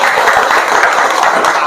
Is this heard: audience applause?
yes